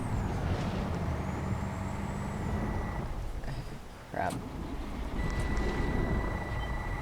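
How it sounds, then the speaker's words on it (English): Steady electronic warning tone for low air pressure inside a truck in American Truck Simulator sounds over engine rumble, cuts out briefly mid-clip, then resumes. A man mutters a word while it plays. "Shut up about the low air pressure"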